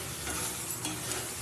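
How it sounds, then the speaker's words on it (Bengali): A brief, faint scrape of a spoon stirring egg through spiced curry in a pan, over a soft sizzle. "ডিম দিয়ে আবারও ভালো করে নেড়ে চেড়ে নেবো"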